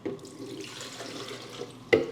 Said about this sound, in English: So I'm going to add 2 cups of water.